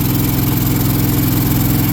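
A 1977 Cushman Truckster's engine drones steadily and loudly as it climbs a hill, a constant mid-low running hum with no pauses and no voices.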